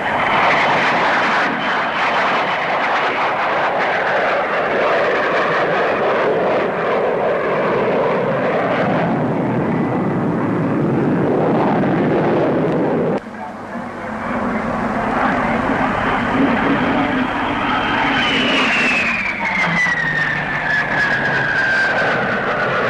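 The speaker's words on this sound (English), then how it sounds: "Here's the DH-112, the Venom, a development of the famous Vampire." A de Havilland DH-112 Venom jet flies at an airshow, a loud continuous engine roar that swells and falls as it passes, ending with a descending whine, heard without talk.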